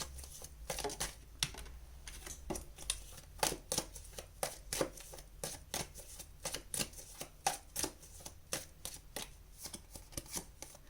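Tarot cards being shuffled, a rapid run of crisp riffling snaps and soft slaps repeating steadily and close, with no talking.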